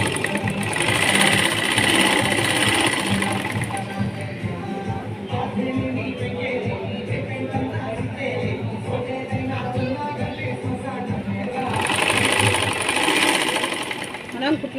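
An electric sewing machine stitches a lined blouse with piping, running in a steady, close whirring burr that pauses briefly and restarts, with a voice faintly in the background.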